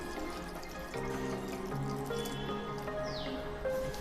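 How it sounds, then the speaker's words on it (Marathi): Water runs and splashes steadily into a metal kadhai, the pitch rising slightly as it fills, close by and moderately loud. "आणि त्यामध्ये आपण पाणी टाकून घेणार आहोत।"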